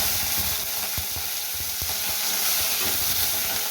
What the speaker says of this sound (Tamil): வெந்தயம் ஜீரகம் பொரிச்சு வரட்டும்